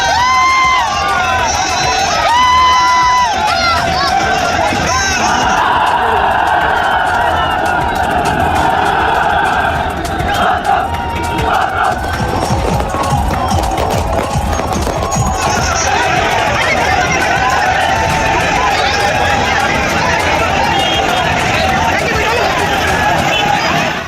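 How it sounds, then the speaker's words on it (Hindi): A large crowd roars and cheers at an election rally, a dense continuous din of voices and chanting with someone talking over it. "ये भीड़, ये जनसैलाब,"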